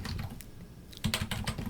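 Short bursts of typing on a computer keyboard, a few light taps then a quick run of clicks, close and fairly soft.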